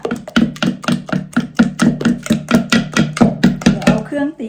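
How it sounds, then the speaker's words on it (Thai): Egg and flour batter being whisked for Thai fried mussel pancakes, a fast, even run of roughly twenty sharp taps against the bowl, loud and close, ending with a brief scrape. "ตีแป้งกับไข่ ให้เข้ากันค่ะ"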